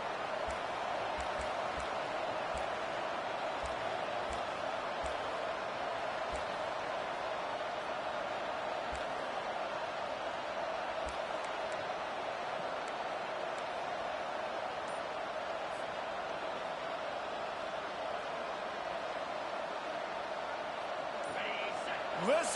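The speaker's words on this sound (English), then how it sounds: "Listen to this crowd just shaking the girders of this place, trying to help their defense." A college football stadium crowd at South Carolina versus ODU cheering on the defense, a steady, dense roar that holds at a constant level throughout, heard from a distance beneath talk.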